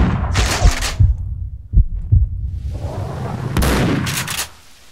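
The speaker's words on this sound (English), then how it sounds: "Who's shooting me?" Gunfire in the video game Max Payne 2, with several sharp, loud shots in an irregular burst, a couple of isolated reports in between, then a final cluster of close, heavy blasts before the sound drops away.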